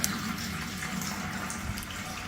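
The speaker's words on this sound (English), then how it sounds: "Pour your water into it that way. Pour it into the bowl" Water poured into a bowl set inside a fish tank, spilling over the rim onto sand: a steady, continuous splashing trickle, fairly close and unbroken, with no talk.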